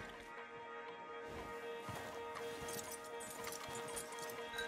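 Horses' hooves clip-clop in a video game as stallions are led along, irregular soft hoofbeats scattered over a steady droning game soundscape, with no voices.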